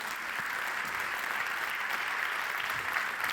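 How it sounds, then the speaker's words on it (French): An audience at a live stage show applauds steadily and fairly loudly, a dense wash of clapping from many hands that holds evenly for a few seconds with no voices on top. "Julie, on vous applaudit bien fort pour vous encourager"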